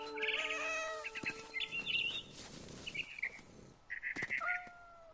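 A cat meows several times in a video game, with high chirping bird calls mixed in and game music underneath, while people talk over it.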